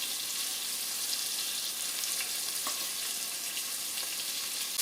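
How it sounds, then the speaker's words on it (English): Pieces of beef for a classic stew sear in a hot pan, giving a steady, dense sizzle with a few faint clicks as pieces are turned, and no voices over it. "you just want to get a nice browning on it"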